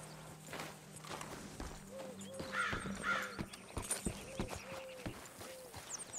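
Horse hooves clip-clopping at a walk in the Western open-world game Red Dead Redemption 2, a steady light rhythm of soft thuds in the mid-distance, with birds cawing and game voices and music around it.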